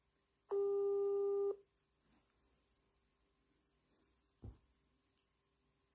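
A single telephone call tone sounds for about a second, clear and steady, followed by quiet line noise and a soft thump.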